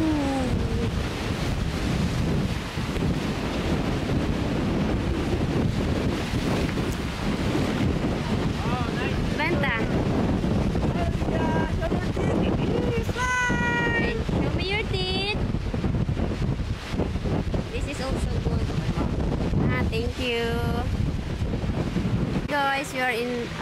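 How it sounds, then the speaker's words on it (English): Strong wind roars across the microphone on a beach in Boracay, with surf-like rushing underneath and people talking faintly in the background. "Look, it's very windy."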